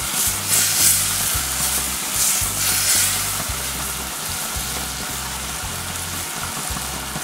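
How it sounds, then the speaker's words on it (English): Cabbage and curry powder sizzle in a pan as they are stirred, a steady frying hiss under repeated soft scraping strokes, close and without talk. "Going to mix it nice and smoothly until all this curry powder get mixed with cabbage."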